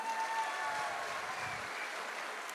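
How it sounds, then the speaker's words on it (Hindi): A crowd at an AWPL platform gathering claps together in a dense, steady wash of applause that holds at an even level from start to finish, with no voices standing out. "एक बार AWPL प्लेटफॉर्म के लिए दिल से ताली होनी चाहिए।"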